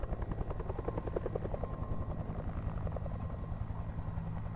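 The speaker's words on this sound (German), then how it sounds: "Klingt wie ein Hubschrauber." A video game helicopter's rotor thumps steadily over a low engine drone, close and loud throughout, with no voices.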